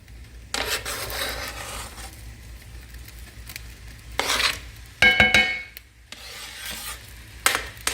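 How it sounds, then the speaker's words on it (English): Ground beef and onion brown in a pan, heard as short bursts of scraping and stirring with soft sizzling between them, close by and fairly quiet, plus a faint metallic clink from utensils. "So we're going to get the onion in here with our beef."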